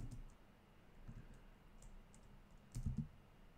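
Soft, quiet typing on a computer keyboard at a desk, a few scattered key clicks with a slightly louder burst near the end.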